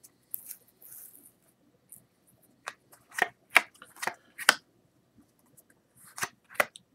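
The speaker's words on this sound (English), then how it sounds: "One more shuffle." Playing cards are shuffled at close range for a red-black betting game, giving several short, crisp riffling bursts and snaps separated by brief quiet gaps, with no talking.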